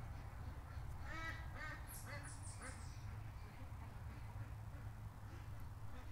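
Ducks quack in a few quick bursts at middle distance, faint against a steady low rumble, with a brief higher squeaky call partway through.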